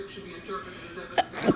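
A person sneezes twice in quick succession near the end, the first a sharp burst and the second louder and fuller, after a quieter stretch with some voice in the background.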